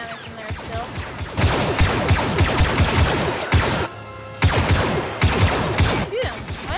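Rapid bursts of blaster gunfire in a Star Wars Battlefront campaign battle, dense repeated shots with thuds and crashes, loud and close, sustained almost throughout with a brief lull midway.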